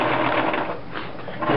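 Sewing machine running a zigzag stitch along a fabric waistband on boxer brief underwear, a steady close mechanical whir with a rapid needle rhythm.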